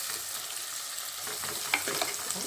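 Onion and crushed garlic sautéing in a pan for a dry fish curry, a continuous close sizzle with a brief clink of stirring partway through.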